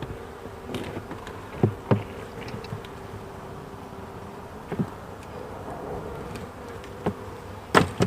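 A hornet buzzes steadily around a Layens beehive, a sustained droning hum with a few sharp knocks and taps scattered over it, close and fairly clear with no talking.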